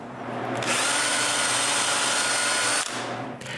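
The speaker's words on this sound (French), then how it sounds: "Je visse donc mon morceau à un plateau de montage." Power drill driving screws to fix a wood piece onto a lathe mounting plate, a loud steady whir that starts abruptly, holds for about two seconds, then cuts off and briefly winds down.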